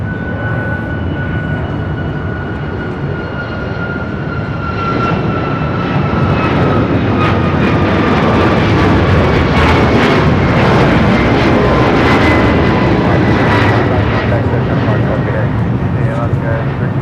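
An Alaska Airlines Boeing 737 MAX airliner at Los Angeles airport roars loudly and steadily, its broad engine noise swelling and holding, with a shifting whine over it. Radio-style voices are faintly mixed in.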